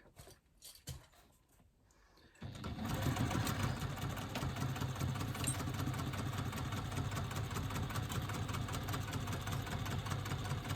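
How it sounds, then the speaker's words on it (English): A sewing machine runs a steady, continuous stitching hum down the side of a fabric pouch's exterior fabric. Quiet handling sounds come first, then the motor starts and keeps going without a break. "Now what I'm going to do is I'm going to sew all the way down the side from the exterior fabric"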